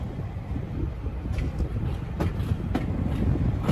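A heritage train on the Great Central Railway rolls steadily through a tunnel toward Loughborough, giving a loud continuous rumble with periodic wheel clacks and rattles, heard from on board.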